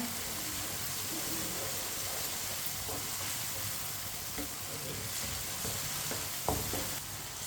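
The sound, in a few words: tomatoes frying in a pan while stirred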